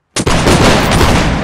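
A musket volley in a Napoleonic Wars video game erupts as a sudden, loud crack of many shots, then rolls on as a dense, sustained roar of gunfire and rumble.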